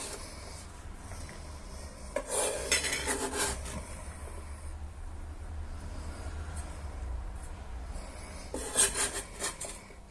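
Plates and utensils clatter while a one-pan meal of hake fillets and rice is served onto a plate, with irregular scraping and clinking bursts, one louder cluster early and another near the end, over a low steady hum.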